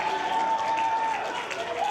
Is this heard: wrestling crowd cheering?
yes